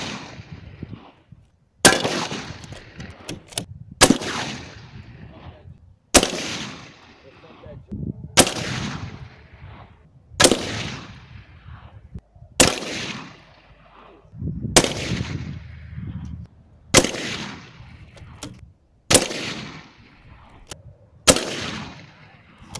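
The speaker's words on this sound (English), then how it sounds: "Armored Republic, A2 plate, shot number 1." Ten loud gunshots strike an Armored Republic A2 body armor plate, each a sharp crack with a ringing tail, evenly spaced about two seconds apart at close range, with no talking between them.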